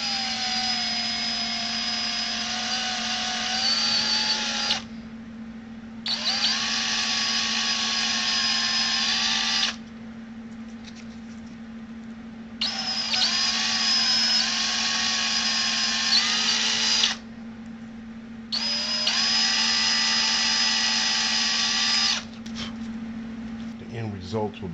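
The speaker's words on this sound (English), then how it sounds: "So I'm just going to drill a little bit in here." An electric drill bores a small hole into a wooden block for mounting a servo in a 100mm EDF trainer model plane. It gives four high whining bursts separated by short pauses over a low constant hum.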